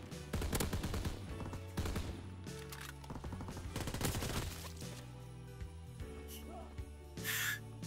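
Repeated rifle and automatic gunfire in a WW2 video game, sharp bursts at irregular intervals, loud and close, with quieter gaps and a final burst at the end; no talk heard.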